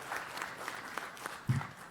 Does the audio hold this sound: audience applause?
yes